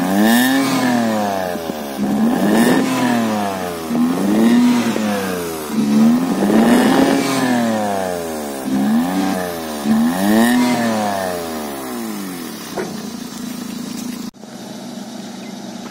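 A Maruti 800 with a racing exhaust revs hard about six times in a row, each rev rising and falling with a rough, throaty exhaust note, loud and close, then cuts off.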